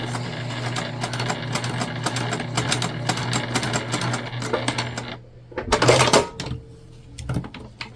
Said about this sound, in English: we're just basting in place